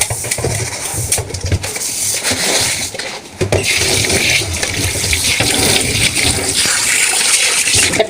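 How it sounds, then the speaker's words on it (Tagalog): Water gushes steadily into a cooking pot while miswa soup with patola and siomai is prepared, a loud continuous pouring and splashing that runs for several seconds with a brief dip partway through. "Lagyan ng tubig."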